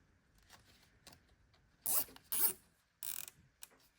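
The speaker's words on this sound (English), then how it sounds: "zip tie that on there" A zip tie is ratcheted tight on a Herman Miller Aeron chair during refurbishment: three short, loud zipping bursts close by, separated by brief pauses, with faint clicks around them in a quiet room.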